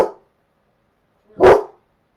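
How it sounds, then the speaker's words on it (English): A dog outside gives two loud, close barks about a second and a half apart, with silence around them. "There's another dog walking outside."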